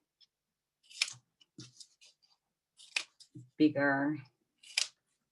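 Scissors snipping through paper or card while making texture tools for printing, a few short close crisp cuts with a voice talking in between.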